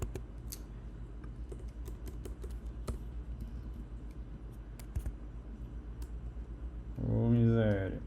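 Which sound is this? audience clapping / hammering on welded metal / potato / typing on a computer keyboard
typing on a computer keyboard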